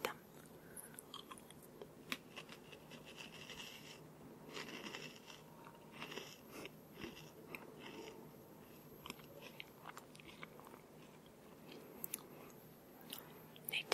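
Close, quiet crunching of goldfish-shaped snack crackers being chewed, a dense run of small crisp bites and grinding crackles repeating steadily with no talk.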